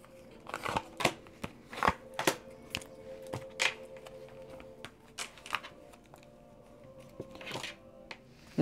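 Tarot cards are shuffled close up in a quiet room, giving a series of sharp, irregular snaps and riffles with brief pauses between them.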